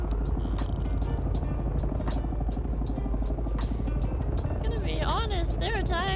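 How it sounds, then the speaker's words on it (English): Ornithopter aircraft in the video game Dune Awakening flying close and loud, a steady rotor-like drone with pulsing beats, and people talking over it throughout. "There are times where it feels like ornies are louder than IRL helicopters."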